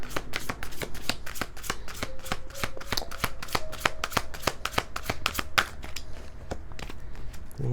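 Tarot cards being shuffled by hand in quick, rhythmic riffles, with sharp papery flicks repeating close up for several seconds and no voices.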